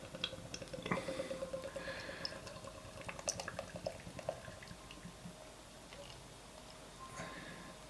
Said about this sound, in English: So we're going to pour this out.